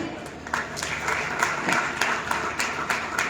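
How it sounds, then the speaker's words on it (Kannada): An audience at a morning career-counselling event for students after PUC applauds, a dense wash of many hands clapping at moderate volume, steady for a few seconds with no speech over it. "ಒಂದು ಜೋರದ ಚಪ್ಪಾಳೆ ಮುಖಾಂತರ can we kick start the morning"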